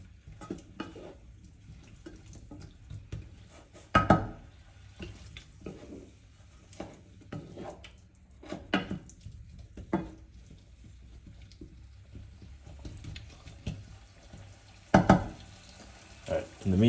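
Oil sizzling in a single pot in a small kitchen while the contents are stirred, with intermittent sharp scrapes and clinks of a utensil against the pot over a quiet frying hiss, close and fairly soft.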